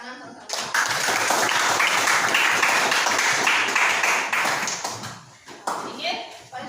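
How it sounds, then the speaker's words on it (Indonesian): A crowd at a classroom teaching assessment claps together in a dense, continuous burst that fades out near the end, with a few stray claps trailing off. "Ingat tepuk tangan sama-sama"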